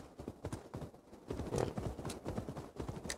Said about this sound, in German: Eigentlich können wir hier unten reiten.